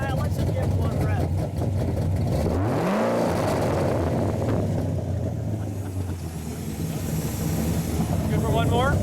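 A 1968 Chevrolet Camaro Heidts restomod engine idles, then is revved once: a loud, close rise in pitch that falls back to a steady idle while people talk nearby.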